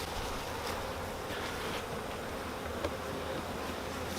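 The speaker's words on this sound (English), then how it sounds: "Because now I have a funnel to put the bees in." Thousands of honey bees buzz in a dense, steady drone while being shifted into a new hive box, the swarm close and constant throughout with no voices.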